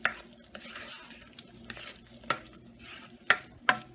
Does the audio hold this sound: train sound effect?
no